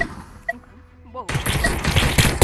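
Shotgun blasts from a double-shotgun loadout in a first-person shooter video game, a burst of loud gunfire erupting after a quiet stretch and continuing densely to the end.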